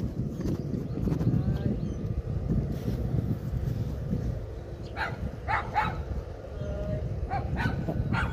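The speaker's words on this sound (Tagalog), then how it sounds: "Kumatapang yung aso niya eh." A dog barks several times in short bursts amid outdoor background noise, with a few higher yips near the end.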